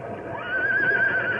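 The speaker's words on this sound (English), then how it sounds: "that whinny isn't coming from our horses" A young horse whinnies once, a loud, clear, wavering neigh that starts abruptly and carries on to the end.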